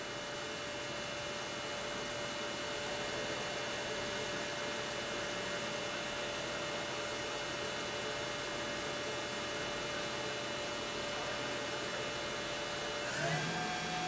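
The spindle of a Chevalier QP1620L high-speed vertical machining center runs with a steady, even whine and broadband hum that holds constant, then shifts briefly near the end, close and continuous with no voices.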